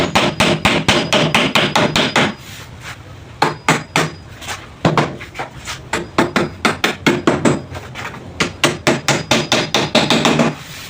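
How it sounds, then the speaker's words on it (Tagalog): Number 3 nails being hammered into an old cut PVC door, loud, close metallic hammer strikes in quick steady runs with brief pauses between nails, alone without speech. "papakuin lang natin sa itaas yan gamit ang number 3 na pako."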